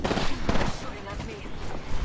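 Gunfire in the battle royale game Apex Legends: a dense burst of rapid shots with loud, close booms that fill the short moment without pause.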